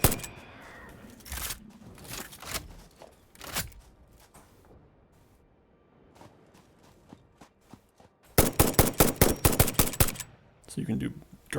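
Rifle gunfire in the factory-building game Satisfactory inside a cave: a few scattered shots early on, then a rapid loud string of about ten shots, followed by a brief burst and footsteps.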